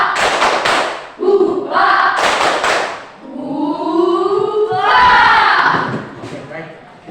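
A group claps together in a quick, steady rhythm while voices chant loudly along with the beat, an Indonesian "tepuk semangat" clapping chant.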